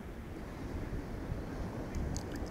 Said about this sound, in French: cette mer qui est là, dont le bruit des vagues se fracasse sur le sable